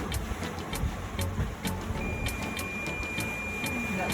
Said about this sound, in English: That's the no depth alarm.